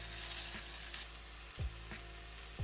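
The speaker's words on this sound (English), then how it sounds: "place it on a medium heat cast iron pan and let it brown up" Chicken breast rubbed with mayo and lemon zest browns in a cast iron pan over medium heat, hissing in a steady, close sizzle with a few soft bumps and shifts.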